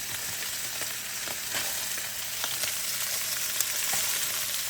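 Onions fry in a pan with a steady, moderately loud sizzle and crackle, a continuous bright hiss dotted with small pops and no voices over it.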